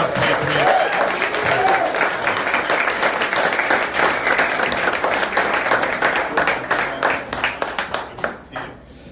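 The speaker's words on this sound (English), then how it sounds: "A big round of applause for this patriot." A symposium audience applauds a speaker, with dense, loud clapping from a crowd that holds steady and then thins into scattered claps and fades near the end.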